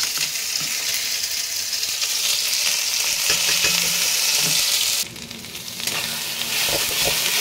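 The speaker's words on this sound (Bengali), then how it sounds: "মোটামুটি ভালো করে নেড়ে চেড়ে নেব।" Mashed pointed gourd bharta, ground and added to a heated pan, stirred and frying with a steady, loud sizzle and scraping strokes that run continuously, briefly dipping in level near the end, with no talking.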